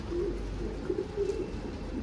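Pigeons roosting inside a large dark coop give soft, low cooing calls, a few brief warbles over a steady low hum of the enclosed space, nearby but subdued, with no talking.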